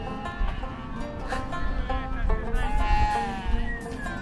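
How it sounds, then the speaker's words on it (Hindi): Sheep and goats bleat as the flock files back into its pen at Shujerab, a high mountain settlement near Shimshal Pass, with several overlapping wavering calls close by over a low outdoor rumble. "जब मैं शुजराव पहुंचा तो भेड़ बकरियां वापस अपने बाड़े में दाखिल हो रही थीं।"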